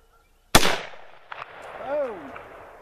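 An M1 Garand rifle fires a single loud, sharp shot at an outdoor range, followed by a short echoing decay and faint metallic clinks, then a brief rising-and-falling vocal sound.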